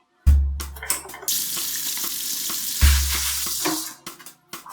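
Hands being washed under a running kitchen tap, two loud gushes of water with splashing and rubbing between them, stopping near the end, close and alone without talking.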